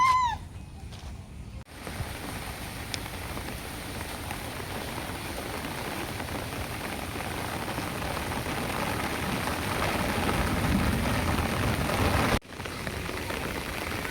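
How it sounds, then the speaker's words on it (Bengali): Heavy rain pours steadily at a zoo in Beijing, a dense, continuous hiss that builds louder over the stretch, with a brief dip near the end and faint bird calls at the start. "আমরা এখন প্রচণ্ড রেনের মধ্যে পড়ে গেছি।"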